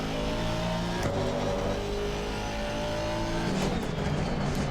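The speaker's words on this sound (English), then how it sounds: "You can see that rotation that I'm on about as you drop into first gear." An Aston Martin race car at Kyalami drops into first gear: a loud, steady engine drone with rising and falling harmonics and a brief rev blip near the end, close and alone with no talk.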